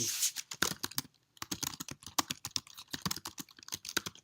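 Rapid typing on a computer keyboard, a steady run of crisp, close key clicks with a brief pause near the start, played alone with no voices.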